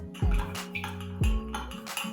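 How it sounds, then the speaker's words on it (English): A spoon clinks against the side of a glass twice while stirring a hot toddy with honey, with a brief swirl of liquid between the taps, close and fairly loud. "give it a quick stir"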